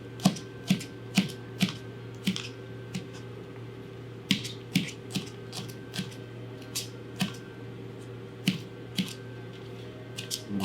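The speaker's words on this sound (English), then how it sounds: "continue to chop it up." A knife chops garlic on a cutting board in a home kitchen, with sharp, evenly spaced taps, close and fairly quiet, and no talking.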